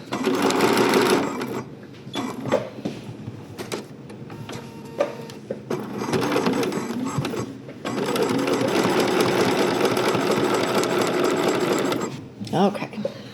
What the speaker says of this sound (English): I'm just going to sew back over and cross my old stitches.